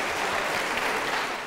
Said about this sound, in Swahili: Asante sana, makofi wapigie.